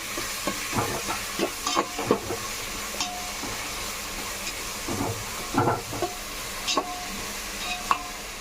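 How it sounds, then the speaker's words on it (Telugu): Onions and green chillies are stirred and fried in a pan for chicken curry: a constant sizzle with repeated scraping and clinking of a spoon against the metal, close by and without talk. "ఉల్లిపాయలు వేసాను ఉల్లిపాయలు కలుపుతున్నాను"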